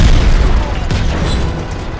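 Heavy booming blasts roll through as a satellite is blown up in Just Cause 3, a dense low rumble of explosion that lingers and slowly decays over two seconds.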